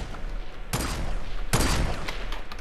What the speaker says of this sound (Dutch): Worden wij nog beschoten of niet?